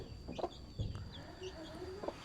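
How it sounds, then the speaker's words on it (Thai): Chickens cluck softly in a rural yard, several short clucks scattered across the clip over a steady background hum, with no talk. "ไก่ขึ้นมาเนาะ"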